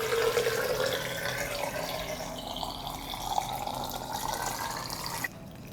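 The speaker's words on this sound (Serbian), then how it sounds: "Sipam vodu da prekrije paradajz." Water poured into a glass jar packed with tomatoes, a continuous gurgling, filling rush that shifts in tone as the level rises and stops abruptly near the end, close and steady, with no speech.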